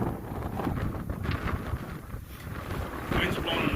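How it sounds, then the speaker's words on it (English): Strong wind gusts blow across an outdoor beekeeping yard among rows of hives, buffeting the microphone with loud, rumbling roar that swells and eases throughout. "The wind's blowing like crazy"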